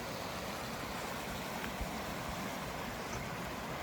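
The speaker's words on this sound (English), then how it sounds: "You got water going across the trail right here, going into a creek that's coming up this way" Creek water crossing a hiking trail on the Appalachian Trail runs in a steady, broad, moderately faint rush that holds unchanged throughout, with no voices.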